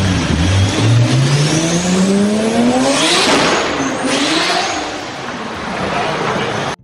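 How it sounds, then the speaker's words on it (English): A car engine revs hard and loud with rising and falling pitch, sounding close and continuous throughout, like a high-revving performance car pulling through its gears. "it's the sound of your car's engine working hard to keep you moving."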